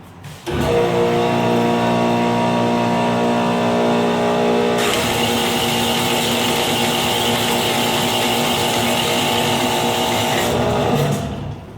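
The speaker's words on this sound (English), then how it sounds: "So as you can see, she zings through the metal pretty good" A Grizzly G0614 6x9 metal cutting band saw runs loud and steady, its motor hum shifting to a harsher grinding whine as the blade bites into 1/4 inch cold rolled steel, 1.5 inches wide, before winding down near the end.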